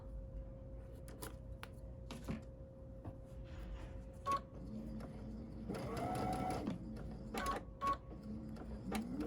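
A sewing machine runs in short bursts, stitching face mask fabric with reverse stitching to reinforce a seam, close by over a steady mechanical hum and scattered ticks.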